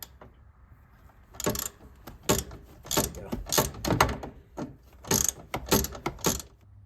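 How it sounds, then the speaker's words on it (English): Bolts are ratcheted out while mounting interior cargo rack brackets, giving close, rapid metallic clicking bursts with short pauses. "let's take these bolts out and then we'll start mounting up the brackets"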